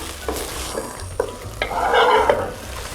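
Thyme drops into a hot pan of onions for French onion soup, a few close stirring scrapes building into a brief loud hiss of sizzling over about three seconds.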